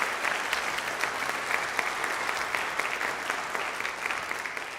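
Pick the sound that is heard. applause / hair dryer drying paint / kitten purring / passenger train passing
applause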